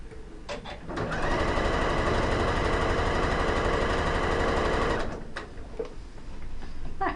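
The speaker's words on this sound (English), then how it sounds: "I'm just concentrating on my nested seams whilst I'm sewing." A sewing machine runs in one steady, rapid stitching burst along quilt seams for about four seconds, close and loud, with a few clicks before and after.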